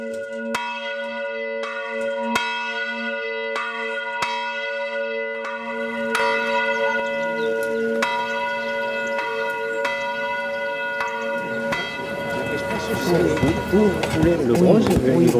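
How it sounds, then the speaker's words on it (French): Newly cast bronze bells ringing at an 11th-century church, clear resonant strikes with long sustained tones, spaced single strokes at first, then denser overlapping peals under growing noise and a heavy rumble toward the end. "C'est cette église du 11e siècle qui va recevoir des cloches du 21e siècle."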